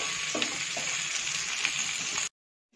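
Onions and capsicum fry in a pan for chilli chicken, giving a steady, close, crackling sizzle with faint stirring that stops abruptly near the end.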